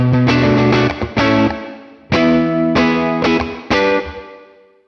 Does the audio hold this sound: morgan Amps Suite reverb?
yes